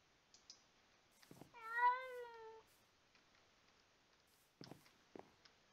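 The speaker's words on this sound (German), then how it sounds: "Naja, bleibt's erstmal bei der einen Katze." A single Minecraft cat meows with a clear, rising-and-falling tone, close and distinct, with soft clicks and patter scattered before and after in an otherwise quiet game scene.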